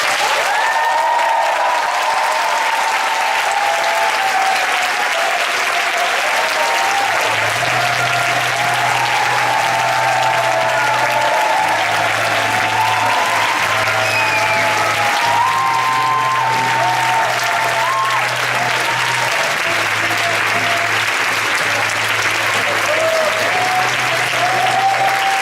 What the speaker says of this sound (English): I really want to give him one last round of applause